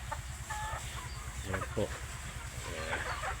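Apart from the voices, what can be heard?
caged chickens clucking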